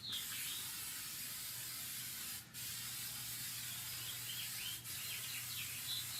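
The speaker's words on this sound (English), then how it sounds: "just spray it straight on" Cleaner sprayed from a trigger bottle onto an engine part during engine detailing, a continuous close hiss held for several seconds with two brief breaks, over a low steady hum.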